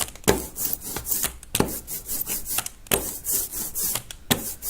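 An ink roller is pushed back and forth over an inking plate in repeated strokes, giving a sticky, crackling hiss with each pass, close and alone.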